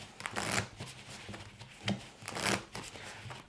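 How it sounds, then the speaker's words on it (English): Playing cards shuffled face up riffle and slide in several quick bursts of papery shuffling, close and fairly quiet, with short pauses between passes. "shuffle the cards face up"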